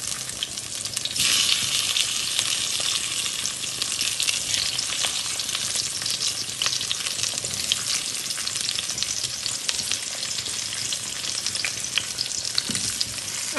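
Halved tomatoes and browned garlic fry in a pan with a dense, steady sizzle and crackle that runs loud and unbroken throughout.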